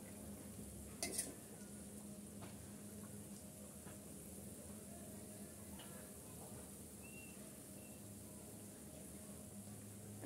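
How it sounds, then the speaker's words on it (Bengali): Biscuits fry in oil on a gas stove, giving a steady, quiet sizzle throughout, with a brief utensil clink near the start. "আর বাকি বিস্কিটগুলো আমি একইভাবে ভেজে নিচ্ছি।"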